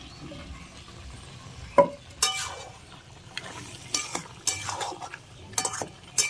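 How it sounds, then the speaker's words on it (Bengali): Food sizzles quietly in a pan as chopped tomatoes are stirred into frying chicken, the spoon scraping, with sharp clinks of metal against the pot every second or so. "এবার টমেটো কুচিগুলো দিয়ে দেবো।"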